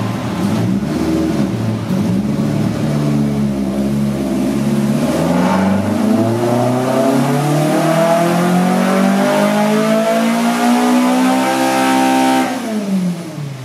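A 1983 VW Rabbit GTI engine with individual throttle bodies revs loud and close on a Dynapack dyno, sweeping smoothly upward in pitch over several seconds before cutting off abruptly at the end.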